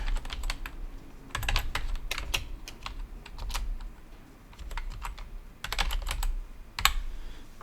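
Clicks from a computer keyboard come in close, irregular bursts of typing separated by short pauses, with no talking.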